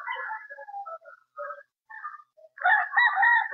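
Gamefowl brood cocks and stags crow and cluck nearby in short broken calls, and one long, loud crow closes the sequence.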